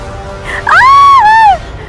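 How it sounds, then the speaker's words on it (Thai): A woman lets out a single loud, shrill scream that rises and then falls in pitch before cutting off. "เสียงกรีดร้องก็ดังออกมาจากเรือนหอของคู่แต่งงานข้าวใหม่ปลามัน"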